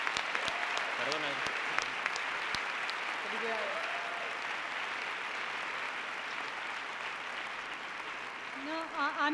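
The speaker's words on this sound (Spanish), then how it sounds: "Un aplauso." At the 1992 Goya awards ceremony, audience applause starts with crisp individual claps that soon settle into a softer, steady patter, while voices speak at several points over it.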